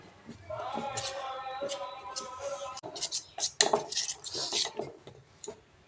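A spoon mixes egg bajji batter in a bowl, giving scraping strokes and light metallic taps close by, while a voice talks over the first half.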